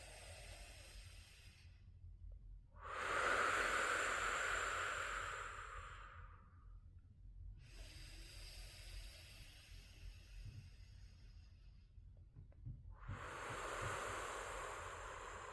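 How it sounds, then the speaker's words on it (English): Slow, deep breaths, drawn in and let out in long, soft swells of airy hiss. They rise and fall in a calm rhythm close to the microphone in a quiet room at night. "we could take a couple deep breaths together"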